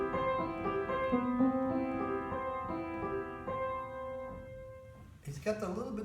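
Piano plays measures 5-8 of Bach's Prelude 1 from the Well-Tempered Clavier, with soft sustained broken-chord notes ringing and overlapping at a steady pace, fading near the end before a voice starts speaking.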